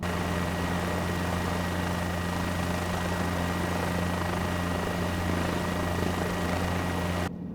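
A helicopter hovering steadily in Microsoft Flight Simulator, a constant loud rotor and turbine drone with a low steady throb, no talk, cutting off abruptly at the end.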